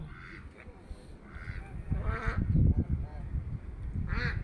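Ducks quack and geese honk close by in a mixed flock at a park in Lancaster, California, with people talking over the calls.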